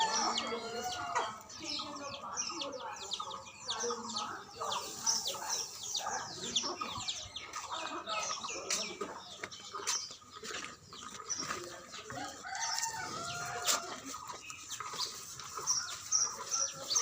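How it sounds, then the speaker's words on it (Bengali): Chickens cluck and chirp softly nearby as they scatter grass on a farm where cows are feeding, scattered short calls and rustles over a quiet outdoor background, with some talk mixed in. "মুরগিগুলো দেখো ঘাস ছড়াইয়া কি করছে"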